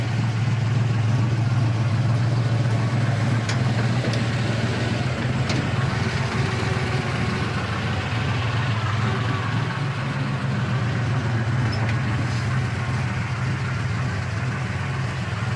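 Restored 1971 Chevy Camaro Z28 with its numbers-matching LT1 350 V8 idling, a steady low rumble held at even level throughout with no talk.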